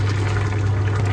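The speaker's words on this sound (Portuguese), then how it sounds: "Vou colocar mais um pouquinho de leite de coco." Coconut milk is poured into a curry in a brief, steady pour over a constant low hum, with no one talking.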